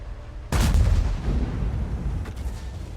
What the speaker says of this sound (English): Snaps a shot there, but doesn't go.